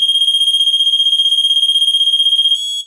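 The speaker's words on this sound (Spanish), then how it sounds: "Ahí lo vemos, el pitido." A loud, steady electronic beeping pulses rapidly and evenly, then holds as a continuous tone before cutting off abruptly, from a battery-powered tilt alarm with a remote control.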